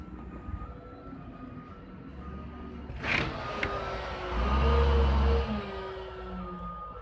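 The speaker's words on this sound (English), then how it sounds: "Garbage truck" Garbage truck passing outside, a faint low rumble that swells and fades as it goes by, with a brief clatter partway through.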